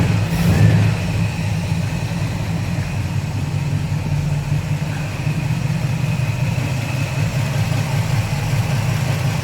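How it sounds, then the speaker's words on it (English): An old Holden WB ute engine, unused for about 18 months, idles steadily and fairly loud, a low continuous rumble with a slight initial surge, no voices. "Actually doesn't sound too bad for an engine that's been sitting here"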